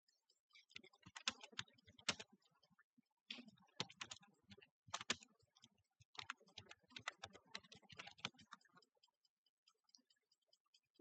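Fingers typing text on a computer keyboard, quick irregular bursts of close, crisp key clicks separated by short pauses, fairly quiet with no talking.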